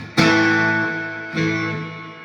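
Two strummed electric guitar chords through an amp set with heavy reverb, each ringing out with a long reverberant tail, loud and close.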